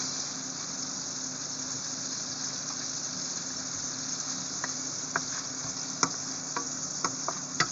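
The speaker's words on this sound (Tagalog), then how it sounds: "So, ilagay na natin yung garlic." Garlic goes into a frying pan with shrimp, and a continuous close sizzle runs under a faint steady hum, with a few sharp clicks and taps near the end.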